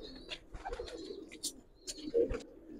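Giribaz pigeons, a traditional Old Dhaka breed, cooing in soft low throaty bursts, several overlapping calls close by, with faint chirps and light background rustle and no talk.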